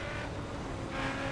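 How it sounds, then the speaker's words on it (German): Steady engine drone with a slight rise in pitch near the end, like a game car accelerating, continuous and fairly loud with no talking; a car in The Crew Wild Run racing game. "Ich höre deinen Motor."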